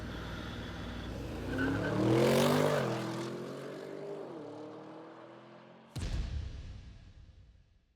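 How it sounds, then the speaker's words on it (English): An Audi RS7 V8 launches hard in a drag race, its engine note swelling into a loud, rising roar before easing off as the car pulls away, followed by a sudden sharp burst of noise late on. No one speaks. "the RS7's launch might look unflustered, but it's faster against the clock"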